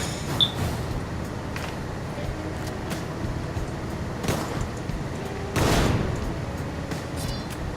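Gunfire in the top-down shooter game Deadbolt: a few sharp shots scattered over several seconds, with one louder, longer burst near the end, set against a steady background of game noise.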